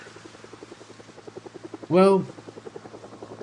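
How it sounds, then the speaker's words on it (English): A helicopter passes over in the zombie survival game Project Zomboid, a steady rhythmic rotor chop that rises briefly to a loud peak, heard alongside a few spoken words. "Oh, what a coincidence! Hello, helicopter."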